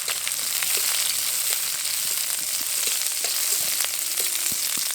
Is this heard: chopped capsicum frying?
yes